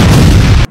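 A loud, close bomb blast from the Heroes Online World game, heard as one broad booming burst that holds strongly for most of a second and then cuts off abruptly.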